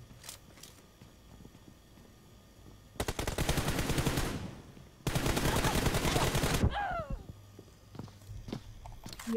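Gunfire in a shooting video game: two long bursts of rapid automatic fire, loud and close, with scattered single shots and footsteps around them.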